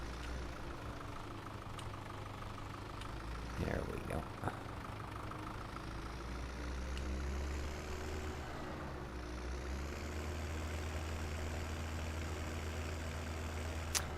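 Tractor engine in the video game Farming Simulator 17, set in Kootenay Valley, idles with a steady low hum throughout, with a brief burst of louder noise near the start and someone talking over it.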